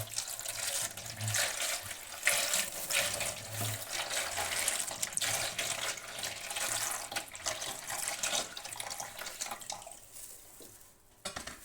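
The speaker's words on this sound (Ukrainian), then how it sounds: "Тепер сюди, де ми е, ляємо водички, обмиваємо їх хорошо від цього." Running tap water flows steadily over marbled dyed Easter eggs being rinsed in a sink, a close continuous splash with light clinks of a dish, easing off near the end.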